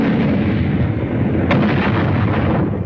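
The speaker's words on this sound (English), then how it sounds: "The long-range German guns were getting hot from throwing shells across the channel." Long-range German artillery guns firing shells across the Channel, a heavy continuous rumbling barrage with one sharper blast midway, loud and booming throughout.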